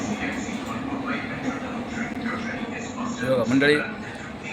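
A Mumbai Metro Line 3 train hums and rumbles as it pulls away from a station, the sound swelling and shifting in pitch, with a person talking over it.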